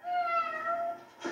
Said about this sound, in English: What's the kitty cat say?